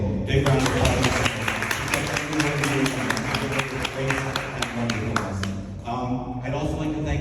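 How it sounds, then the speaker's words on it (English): An audience at a neighborhood business district's annual meeting applauds a volunteer, a steady wash of many hands clapping that runs for several seconds, with a voice murmuring beneath it. "Big round of applause."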